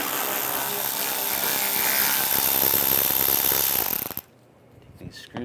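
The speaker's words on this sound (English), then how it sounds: "Using an 8mm socket underneath, we're going to take this shield down." Power tool driving an 8mm socket on the underbody shield screws of a Mercedes E350, a loud close whirring buzz for about four seconds that cuts off abruptly into near silence.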